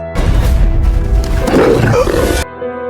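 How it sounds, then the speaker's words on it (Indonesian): A white wolf in a feature film snarls and roars loudly up close for over two seconds, with a rough, growling texture and no speech. "seekor serigala putih kembali datang untuk membantu Asripa"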